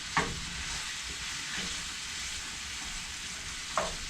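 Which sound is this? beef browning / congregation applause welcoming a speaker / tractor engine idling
beef browning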